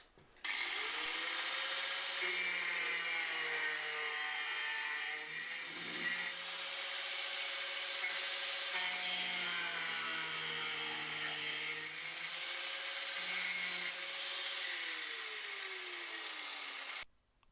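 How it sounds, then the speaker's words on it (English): A power tool whines steadily and loudly as it strips underseal from the floor of an Opel Kadett historic rally car, the pitch dipping and recovering under load for most of the run before cutting off. "I'll have to remove these clips and use some power tools on this."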